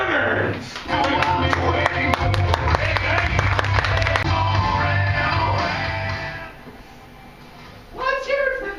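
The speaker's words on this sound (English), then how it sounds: "I want everyone to give a round of applause" An audience at a telethon show breaks into scattered clapping that builds into steady applause for several seconds and then fades, with a host's voice rising near the end.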